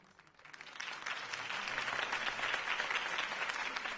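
A crowd applauds a campaign speech, faint and distant at first, then swelling into steady clapping that continues throughout.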